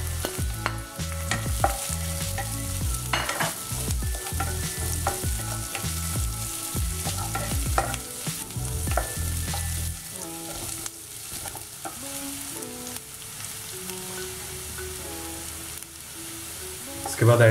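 Green chili sizzles and fries in a pan on medium heat for sooji upma, with a steady crackling hiss and stirring scrapes, the sizzle easing somewhat in the second half.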